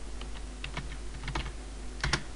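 Short, quick taps on a computer keyboard while text is typed into a file on an Ubuntu server, a handful of close clicks ending in a firmer double keystroke.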